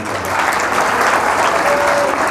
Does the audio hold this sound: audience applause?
yes